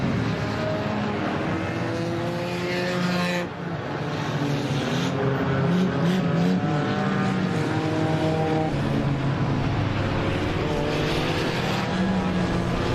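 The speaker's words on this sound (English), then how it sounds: "Cars stacking up on the front straightaway." Race cars on an oval short track during a motorsports broadcast, a continuous roar of engines from several cars stacking up on the front straightaway, loud and sustained with only a brief dip.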